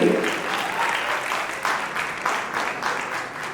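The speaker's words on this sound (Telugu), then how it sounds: "అస్సలు కొడుతున్నారు క్లాప్స్, మామూలు క్లాప్స్" A cinema hall audience claps loudly for Rajinikanth's climax appearance in a packed houseful screening, a dense, steady wash of applause with a few louder surges, continuing throughout.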